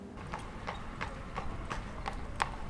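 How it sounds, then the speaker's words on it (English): Horse hooves clip-clop in a steady, even rhythm as a horse-drawn carriage travels along the beach at Great Yarmouth, about eight clear strikes over light background ambience. "it was a holiday tradition to go on horse and carriage along the beach"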